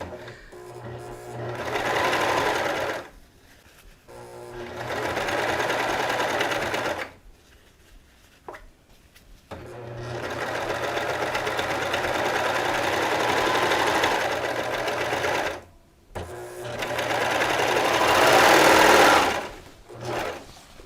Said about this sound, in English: I'll adjust my hands so I'm lightly holding the bottom fabric and lightly holding the top fabric, trying to keep them aligned as you sew.